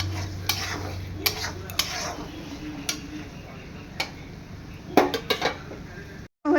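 A spoon stirring half-cooked spices in a pot for Bengali mutton curry: sharp metallic clinks and scrapes at irregular intervals, a quick cluster near the end, over a faint low sizzle.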